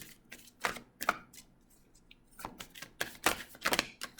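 A deck of tarot cards is shuffled slowly, giving a run of separate crisp riffling bursts and soft slides close to the microphone in a quiet room, with no talking.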